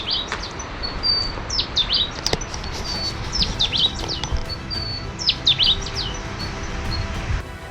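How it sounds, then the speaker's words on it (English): A rufous bristlebird on the Shipwreck Coast gives repeated high, sweet, whistled calls in a few phrases over steady wind and surf noise. "that was a rufous bristlebird"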